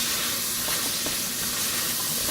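Vegetables for minestrone soup sizzle steadily in a hot pan, a broad continuous hiss with a few faint scraping stirs, no voices.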